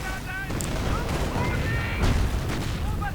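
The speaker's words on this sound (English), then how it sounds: "Tanks continuing to firing at the infantry down below, with the Stuart moving in to actually support now" Tank guns and battle fire crack and boom in a World War II strategy game, dense overlapping blasts and rumbling explosions with brief whistling effects throughout.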